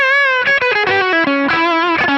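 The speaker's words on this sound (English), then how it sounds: "All those tones just came from me playing my guitar." Electric guitar with single-coil pickups played through distortion and modulation effects, a sustained bright overdriven chord shifting into a quick run of picked notes, loud and alone.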